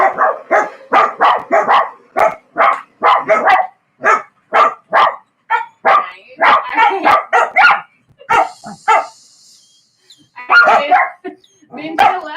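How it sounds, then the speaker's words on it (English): Several dogs bark in a home, loud and near, with a rapid run of repeated barks followed by scattered yips, partly overlapping and mixed with a person talking. "Hey, Joey's home, everybody, and the dogs are letting you know"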